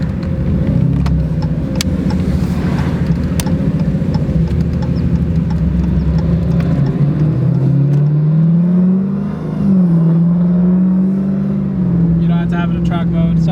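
A car's engine, run on E85 in track mode, drones loudly and then rises and falls in pitch through downshifts, heard close from inside the cabin while people talk over it.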